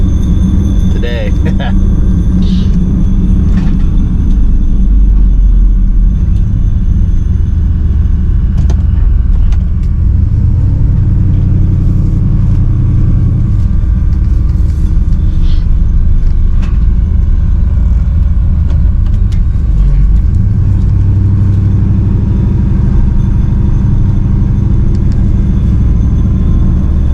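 1964 Pontiac Grand Prix engine idling, a loud, steady low rumble that continues throughout, with someone talking over it.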